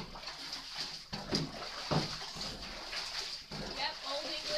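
An Old English bulldog rinsed with water in a bathtub at bathtime, a steady close rush and splatter of running water with shuffling, while a person talks over it.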